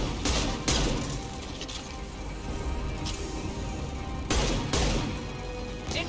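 Battle gunfire in Mass Effect 2 Legendary Edition, dense sustained bursts of shots with a few sharper loud cracks standing out, continuous and close, no voices.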